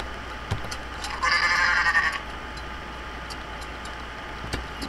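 A goat in the Goat Simulator video game lets out a single loud, wavering bleat of about a second, over a quiet background with a few faint clicks.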